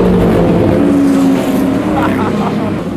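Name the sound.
classic race cars, 1965 class, rolling start of final heat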